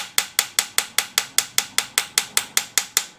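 Sharp metallic taps strike the carburetor of a Buick Nailhead engine in a vintage dragster to free a stuck needle and seat. There are about fifteen evenly spaced, crisp, close taps in quick succession, with no voices.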